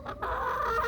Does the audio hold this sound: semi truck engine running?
no